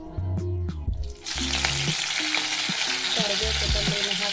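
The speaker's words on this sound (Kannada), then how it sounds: "ಕರಿಬೇವು ಕೊತ್ತಂಬರಿನ ಹಾಕಿಬಿಟ್ಟು ಈರುಳ್ಳಿನ ಆ್ಯಡ್ ಮಾಡ್ತೀವಿ." Curry leaves, coriander and onion hit hot oil in a South Indian drumstick curry, a loud crackling sizzle that bursts in after a moment and carries on with stirring clatter over a tonal background.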